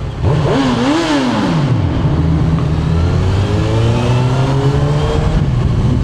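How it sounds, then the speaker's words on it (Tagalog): A Honda CB1000R naked bike with its stock exhaust revs in a tunnel. Loud, echoing engine blips climb and fall, then settle into a steady, booming drone that carries through the whole run. "So stock exhaust, CB1000R tunnel."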